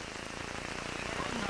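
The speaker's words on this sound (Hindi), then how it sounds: "लगातार बारिश हो रही है" Continuous rain pours steadily on surfaces in a flooded village, a dense, even hiss with no pauses.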